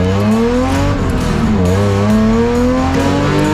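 Race cars in a BMW M Performance Parts race series roll behind a pace car at a rolling start, a loud, close droning of engines with slowly rising revs and overlapping motor tones.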